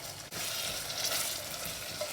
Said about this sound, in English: The tomatoes are nicely cooking in the oil.